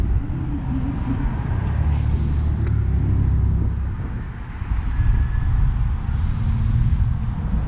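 A 2018 Honda Grom motorcycle with 1,900 miles runs steadily up close, its low engine rumble continuous and loud throughout with a brief dip midway, no talk over it.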